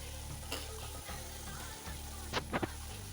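Kerala nendran banana pieces, cut into squares, fry in oil the traditional way. A constant bubbling sizzle runs throughout, and a few quick bright clinks of a utensil come near the end.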